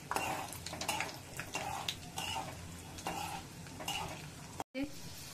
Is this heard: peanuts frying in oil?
yes